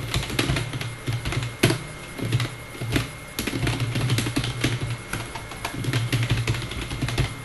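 A computer keyboard being typed on to enter an email signature, a steady stream of close, sharp key clicks over a constant background hum.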